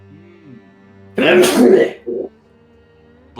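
A single human sneeze bursts out loudly near the middle, preceded by a sharp inhale and followed by a short trailing grunt, with faint talk before and after during a tabletop role-playing session.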